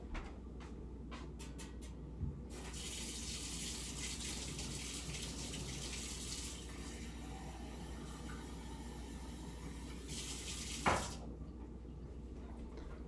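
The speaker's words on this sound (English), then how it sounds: "So I'm going to go fill up my cup with cold water first." A water tap runs cold water into a cup, a steady soft gush lasting about eight seconds between quiet clicks and knocks at the start and a thump near the end, faint and without talking.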